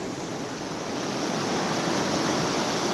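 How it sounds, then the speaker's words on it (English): Rushing rapids of a flooded river roar as a steady, dense broadband wash, loud and constant with no voices over it. "I wanted to show how intense the rapids are"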